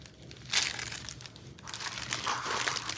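Crinkly wrapping on a vintage mail item crackles and rustles close up: a sharp burst first, then a steadier run of crinkling that lasts to the end.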